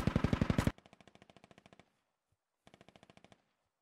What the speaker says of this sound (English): I hear other shots off to the northeast